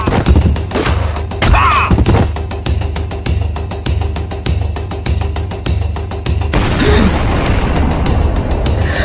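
A film battle scene with a bomb blast amid gunfire, heard as sharp close bursts and heavy thuds with a rumbling explosion, while shouted voices break through the din.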